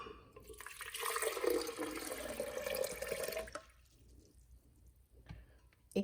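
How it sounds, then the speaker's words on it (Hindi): Two cups of water poured for falsa sherbet, a steady splashing pour for about three and a half seconds, then quiet with a few faint drips and clinks. "हम 2 कप पानी लेंगे।"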